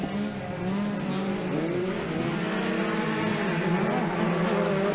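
Pro Buggy off-road race cars roar around the short-course track at Glen Helen, a steady, loud blend of engines with rising and falling revs throughout.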